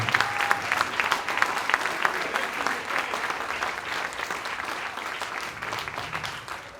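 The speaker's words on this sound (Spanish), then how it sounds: "Dale un fuerte aplauso a Dios por eso." A church congregation claps loudly at an anniversary service, a thick, steady wash of applause that carries on evenly for several seconds.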